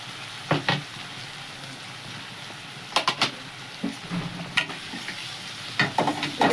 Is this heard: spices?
yes